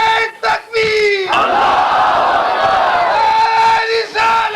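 A packed crowd of believers at an imambargah majlis roars a loud, unified chanted response to a religious slogan. A leader's call comes first, then the mass of voices swells for about two seconds before the next calls rise again.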